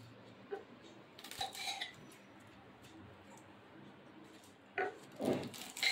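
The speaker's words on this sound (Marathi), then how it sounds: "आणि आता मी हे पानं छान अशी कट करून" Taro leaves are sliced with a knife on a kitchen surface, giving a few soft, faint cutting clicks and knocks in small clusters against a quiet background.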